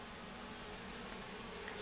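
Honeybees fan pheromone at a hive, a faint, continuous buzzing drone without any break or voices.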